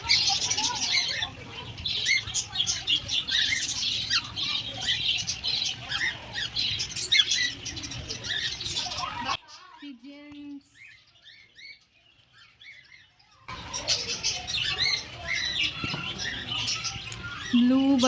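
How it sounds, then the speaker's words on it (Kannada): Blue birds at a hill-view resort squawk and chatter in dense, continuous bursts, broken by a few seconds of near quiet before the calls return. They sound close and fairly loud, and no one talks. "ಬ್ಲೂ ಬರ್ಡ್ ಎಷ್ಟು ಚೆನ್ನಾಗಿದೆ ನೋಡಿ ಗೈಸ್."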